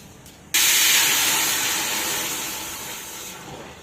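A sudden loud hiss and sizzle bursts out as boiled water hits hot oil with cumin seeds, then slowly fades while staying steady for a few seconds.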